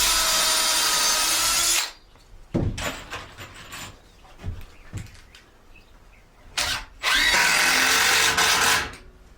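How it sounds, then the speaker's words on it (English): Power drill driving a screw into a pocket hole in wood for a table build: two long, loud whirring bursts, separated by clicks, handling knocks and short tool blips, close up with no talk. "You drill, and that screw should go right into that pocket."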